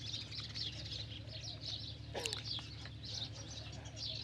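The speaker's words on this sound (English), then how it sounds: "the chattering of the birds all around us" Doves coo and small birds chirp in the shaded trees beside the Nile, a steady outdoor chorus of soft repeated calls with a brief flutter midway, no talking.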